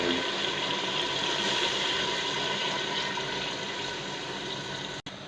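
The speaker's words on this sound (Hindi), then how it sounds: "हमने इसमें पानी ऐड कर दिया है।" Water poured steadily into a cooking pot of fried chicken claws for biryani, a continuous close rushing splash that holds at even loudness before cutting off abruptly near the end.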